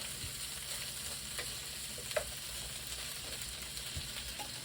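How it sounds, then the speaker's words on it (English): Potatoes sizzle steadily in a hot frying pan, a soft continuous crackle with occasional tiny pops, and no talking. "back there we have the potatoes pan frying there"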